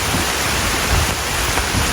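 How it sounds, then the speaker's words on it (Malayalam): Heavy rain pours beside the Muvattupuzha river in a Kerala village, a dense, steady hiss of close, constant downpour with no break and no voices. "മഴ തകർത്ത് പെയ്യാണ്"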